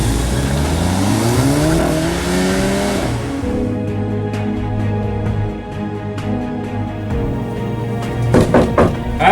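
A car engine revs and pulls away, its pitch rising then fading, followed by a few sharp thunks near the end.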